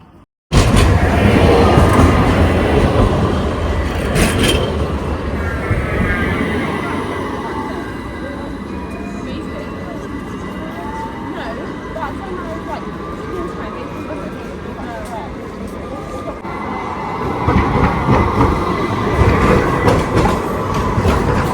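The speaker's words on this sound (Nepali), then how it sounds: "ल ट्रेन आयो साथीहरू।" A train pulls into a station in Istanbul at night: a loud, steady rumble of rail cars with clickety-clack and faint wheel squeal. The noise eases midway and swells again near the end, with voices in the background.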